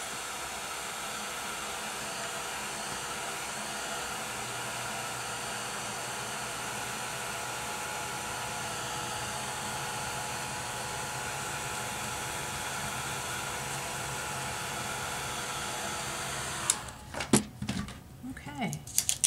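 A heat tool blows hot air to heat set Perfect Pearls powder on a craft tag, a steady, fairly quiet whooshing hiss running unbroken for about sixteen seconds before cutting off into brief handling noises.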